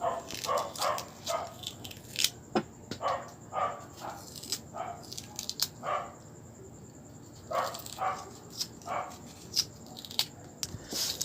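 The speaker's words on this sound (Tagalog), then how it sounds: "Ang ingay kasi ng aso na yan eh." A dog barks repeatedly in short bursts, some yelping, at a moderate distance, with faint background noise between barks.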